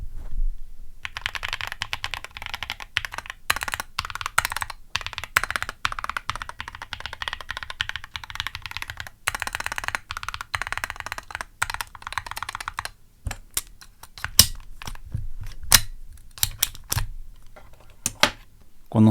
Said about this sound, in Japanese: ちょっと打鍵音を聞いてみますか。